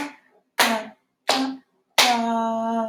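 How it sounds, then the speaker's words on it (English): Hands tapping a shared rhythm together as coordination practice for sight-reading, heard as three sharp, close taps at a steady pulse, the last one ringing on with a sustained tone. "my right hand is going to join in and tap the same rhythm together."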